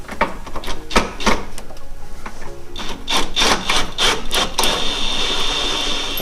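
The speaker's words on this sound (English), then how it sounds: "can you get that ratchet in there now? And we'll tighten them down" A hand ratchet tightens the torsion bar bushing bolts on a Ford Mustang, giving a close, loud series of rapid clicking bursts in uneven rhythm, with a brief pause midway before the clicking resumes.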